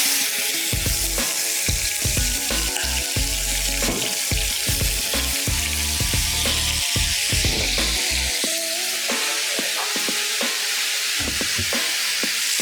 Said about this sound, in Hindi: पैन में थोड़ा सा ऑयल डाल दूंगा और ये आ गई एक और मछली